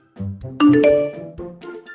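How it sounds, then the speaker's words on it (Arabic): A phone's incoming-message notification chime, a bright two-note ding-dong that rings out clearly over a brief low murmur and then fades away. "جاتلك رسالة على التليفون"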